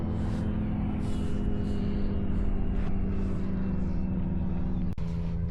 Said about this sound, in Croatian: Evo ti avion.